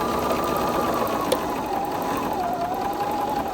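A sewing machine runs steadily, stitching fabric pieces together, a continuous close mechanical whir with one brief click partway through.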